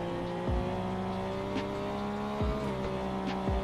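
Engine of a slow car in Car Dealership Tycoon, a Christmas limited event car, droning steadily through a top speed test, with recurring gear-shift dips and a few faint squeaky accents over the continuous hum; no talking.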